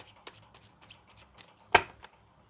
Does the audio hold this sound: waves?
no